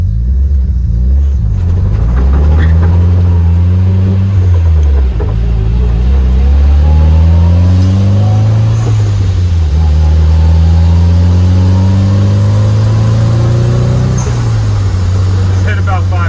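A Nissan 240SX drives along with a loud, steady engine drone, rising and falling revs, and the differential winding down audibly beneath it; no one speaks.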